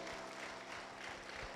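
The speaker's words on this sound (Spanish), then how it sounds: "Vamos a darle un fuerte aplauso al Señor." Brief, fairly faint applause from a church congregation at a live Spanish-language worship service, a steady dense patter of many hands clapping together with no voices standing out.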